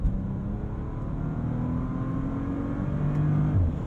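A Bentley Flying Spur pulling through the mid-range in manual mode, a steady muffled engine drone heard from inside the cabin with a gradual rise in pitch toward the end, no talking.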